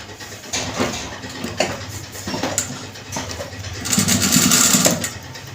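A sewing machine stitching lace onto a child's kaftan, running in short rhythmic bursts with a longer continuous run near the end, close and clear.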